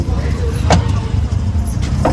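An auto rickshaw engine rumbling steadily up close, a low continuous drone with a few clicks and rattles, voices faintly mixed in.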